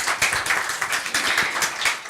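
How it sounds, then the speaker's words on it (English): Applause from an audience after a performance at a live event, a dense, steady patter of many hands clapping together, fairly close and sustained without pause. "A big round of applause for the remarkable performance."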